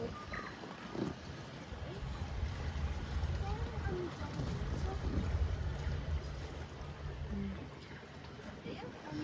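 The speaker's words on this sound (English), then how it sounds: "Our first ride in an electric boat." Steady low electric motor hum and water sloshing around a small electric boat in New Zealand, with faint wind noise and a few indistinct voices in the background.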